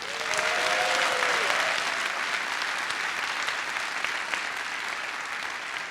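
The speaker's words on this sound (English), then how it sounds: "Can we get a loud applause" A conference audience applauds loudly at a tech monitoring event, a sustained wash of clapping over six seconds, with a brief whistle rising early on and the sound easing slightly toward the end.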